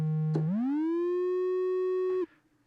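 A smooth synthesizer triangle wave with legato glide slides upward in pitch, then holds a steady sustained note for nearly two seconds before cutting off abruptly.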